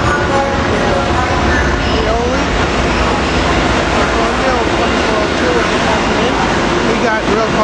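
A SEPTA electric train numbered 72301 pulls into 30th Street Station at rush hour, a loud, steady rolling rumble with squeals and rail clatter, overlaid by voices talking.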